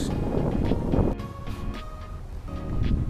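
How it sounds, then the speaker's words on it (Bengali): Strong outdoor wind buffets the microphone beside a row of date palms near Qatar's parliament building, a steady low roar with gusts swelling and easing and no talk. "আর এখানে অনেক বাতাস"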